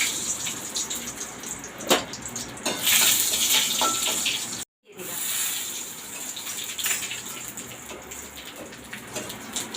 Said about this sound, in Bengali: ফোড়ন যখন ফুটে ফটফাট ফটফাট শব্দ হয় অনেকে বলে এ ফোড়ন কাটছে